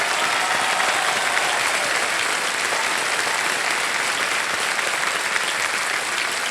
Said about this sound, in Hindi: जोरदार तालियां बज जाए सर्वेश के लिए।